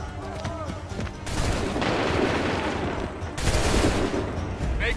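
Massed musket volleys in Assassin's Creed 3, dense crackling gunfire rolling in heavy sustained bursts with booming low rumble, loud and close, with brief lulls between waves.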